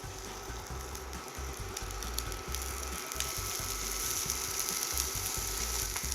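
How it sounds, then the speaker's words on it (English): Burger patties sizzle in hot oil in a pan, a close, constant crackling hiss peppered with rapid irregular pops and spits. "You hear that nice sizzle?"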